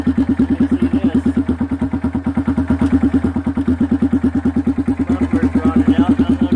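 An idling engine with a rotted-out muffler roars through its exhaust, a loud, close, rhythmic chugging pulse that holds steady throughout.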